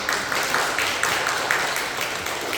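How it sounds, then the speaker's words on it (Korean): Warm applause from a church congregation at a Sunday service welcoming a first-time young visitor, a steady moderate patter of many hands that continues evenly with no voices over it. "따뜻하게 박수 환영합니다"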